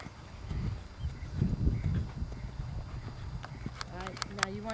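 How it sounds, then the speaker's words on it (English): A horse's hooves clip-clop on an arena surface during a riding clinic, a loose series of muffled thuds, while a person talks throughout. "you remember to put a horse into a canter"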